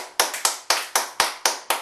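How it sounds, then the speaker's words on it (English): Sharp, separate hand claps, about eight in under two seconds, loud and close with an uneven rhythm, each snapping sharply and fading quickly, like one or two people clapping alone in a quiet room. "Can we have some applause?"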